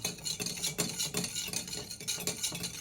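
A Rob Roy cocktail stirred with a big ice cube, giving a soft, steady run of light clinks and swishes that repeat rhythmically at close range and low volume, with no talking.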